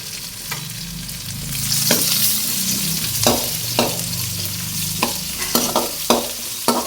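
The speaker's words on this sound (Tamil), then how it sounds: "பூண்டு கொஞ்சம் செவக்கட்டு" Garlic fries with a steady sizzle in a pan while a spatula scrapes and stirs in repeated sharp strokes, loud and close.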